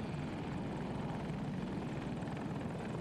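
Helicopter rotor thumping steadily and continuously overhead, a close, loud, low throb with no voices, during a match on the map Orbital while a Super Hokum attack helicopter killstreak is active.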